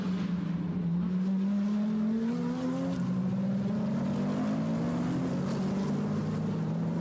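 GT3 race cars, including a Mercedes-AMG GT3 Evo, race on a circuit, their engines a continuous loud drone with gliding pitch shifts as the cars pass and accelerate.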